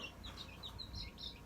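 Week-old Cochin Bantam chicks give a few high, thin peeps that come and go over a steady low background hum.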